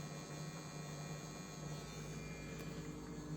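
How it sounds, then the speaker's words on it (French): A centrifugal spa pump with roughly 50 mm inlets, in a homemade low-budget 1000-litre spa, runs with a steady, faint, even hum and whir, unchanging throughout. "La pompe de spa."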